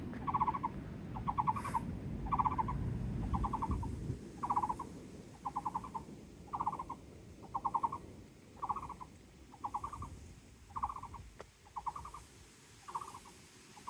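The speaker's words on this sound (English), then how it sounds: "There's a bird" Bird calling on a mountain hike along a ridge trail near an electrical tower: a steady series of short, evenly spaced call bursts repeating about every half second, moderately near, over rustling outdoor background with no talking.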